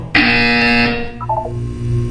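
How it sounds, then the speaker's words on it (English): A loud, harsh electronic buzzer blares for about a second in Portal 2, followed by a short descending beeping jingle over a low background hum. "You will hear a buzzer. When you hear the buzzer, look down at the floor."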